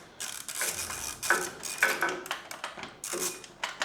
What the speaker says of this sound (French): Je vais déjà commencer avec la douille de 13 là pour enlever le collier, l'écrou qui tient le collier de l'échappement.